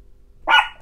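A chihuahua lets out a single short, sharp yap, close and fairly loud after a moment of near silence.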